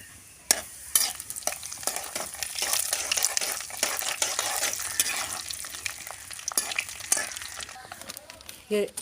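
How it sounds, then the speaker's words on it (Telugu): Cumin seeds sizzle and crackle in hot oil for gongura pickle, close and moderately loud, with a spoon scraping and stirring through the pan in repeated strokes and sharp clinks. "ముందుగా జీలకర్ర వేసుకున్నానండి"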